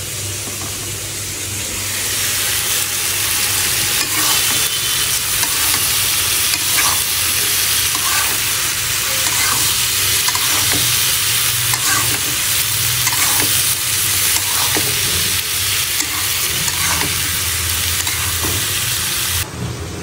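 Raw fish frying in a pan after prawns, a loud steady sizzle running throughout with repeated stirring scrapes layered on top, close by and without speech.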